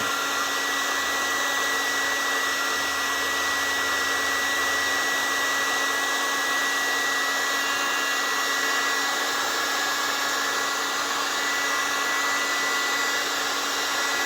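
A heat gun blows a steady, unbroken high-pitched whoosh with an electric whine as it softens many layers of paint on wood, close and constant the whole time with no speech.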